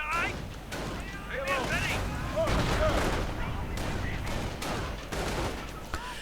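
Gunfire and explosions crackle through a busy video game battle, with rifle and machine-gun bursts layered under a commentator's continuous talk.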